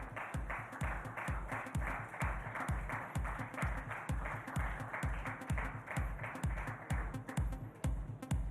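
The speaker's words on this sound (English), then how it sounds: "Big round of applause, ladies and gentlemen." Audience applause at a sports awards ceremony in Mumbai, a faint, even run of rhythmic clapping with a hollow, regular beat underneath, heard at a distance.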